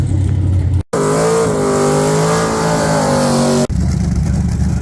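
A race car engine roars loudly as it revs and accelerates past during a street-race test pass on a rough surface, its pitch sliding, then cuts off abruptly.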